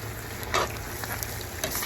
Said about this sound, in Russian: лук уже золотится немножко